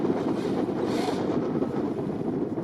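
Wind blowing by the water, buffeting the microphone in a steady low rumble with a brief gust partway through, and no one speaking.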